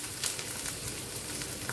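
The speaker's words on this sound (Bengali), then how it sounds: "পেঁয়াজ রসুনটা ভাজা হয়ে গেছে লাল লাল করে।" Onion and garlic fry in hot oil with a dense, even sizzle that hisses steadily and close, with no voices over it.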